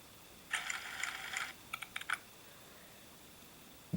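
Quick bursts of key clicks on a computer keyboard as a short code is typed in, one dense run followed by a few separate taps, close and alone in a quiet room.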